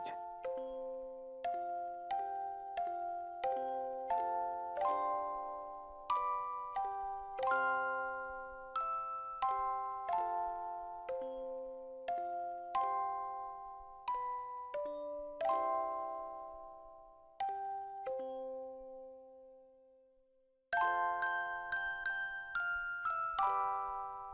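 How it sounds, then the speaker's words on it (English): The Xenogears ending theme plays as a music box tune, a run of delicate plucked metallic notes in a gentle melody with a short pause before it picks up again, heard alone and fairly soft. "The ending vocal track in music box form."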